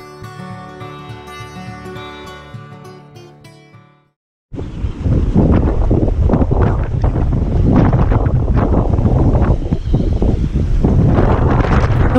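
Strong winds of around 40 knots blow across a marina where sailboats sit in their slips, a loud, gusty roar buffeting the microphone that follows a short passage of music.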